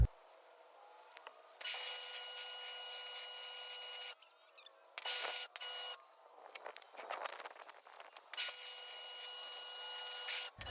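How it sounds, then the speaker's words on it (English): Greasy car parts being scrubbed and washed in separate bursts of scratchy, rubbing friction, several seconds each, with quiet gaps and small clatters between them. "I think you just get the idea of me washing all this crap."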